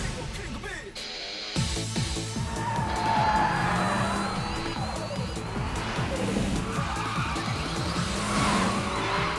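A Lancer Evo drifts through a tight corner on a mountain hillclimb in the Initial D arcade racing game, its engine roaring continuously with tire squeal and skidding, loud and close, while game music plays underneath.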